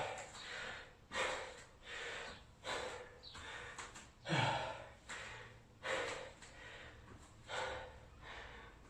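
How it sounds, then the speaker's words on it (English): Heavy breathing of a man resting during a home lower-body HIIT workout, rhythmic close exhales and sharp inhales repeating about every second, fairly quiet, no talk. "I'm starting to breathe a little bit harder"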